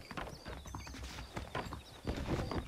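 Horse hooves clip-clopping in the Western video game Red Dead Redemption, a quiet, uneven series of close hoofbeats with faint background ambience.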